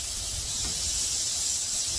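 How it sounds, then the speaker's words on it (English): Compressed air blowing over a Darth Vader helmet during restoration, a continuous close airy hiss at steady loudness, no talk. "All I'm doing is hitting it with air"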